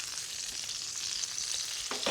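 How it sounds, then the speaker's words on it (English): Prosciutto di Parma dish frying golden in a pan, a steady close sizzle with crackling spatter and a few scrapes of stirring, no voices over it. "sizzling."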